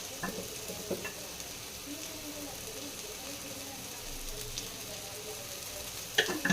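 Tomatoes and rock salt fry in a pan while a chicken dish is cooked, a steady soft sizzle with occasional stirring clatters and a louder scrape near the end.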